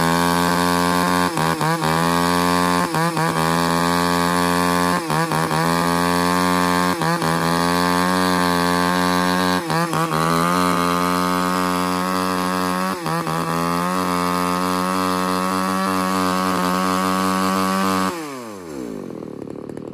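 A used Japanese chainsaw engine, one of the Makita, Echo or Shindaiwa saws, runs loud and close at high revs with a steady buzzing drone and slight rev fluctuations, then winds down sharply at the end.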